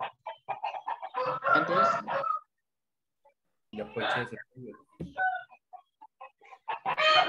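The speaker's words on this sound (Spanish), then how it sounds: "Es la gallina que está activando sus micrófonos." A hen clucking into an open microphone during an online chemistry class, with loud repeated clucks in several bursts around a gap of silence while a person talks at the same time.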